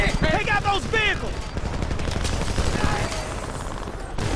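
Rapid automatic gunfire in the video game Homefront crackles in dense bursts through the whole clip, with shouted voices over the opening shots.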